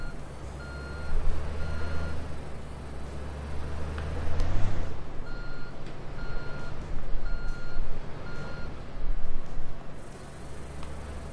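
A truck in the Construction Simulator 2 video game beeps steadily as it reverses, the evenly spaced tones sitting over a loud, rumbling engine drone.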